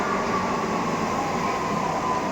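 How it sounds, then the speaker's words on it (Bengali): A metro train moves through a station, a loud, continuous rumbling roar with a faint steady whine that holds level throughout and carries no voices. "তো দাঁড়িয়ে আছি মেট্রো স্টেশনে এখন"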